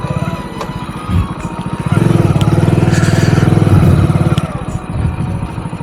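A motorcycle engine runs in a parking area near a hotel in hilly Tikarapada, Odisha, chugging steadily up close with a louder, sustained stretch in the middle before easing back.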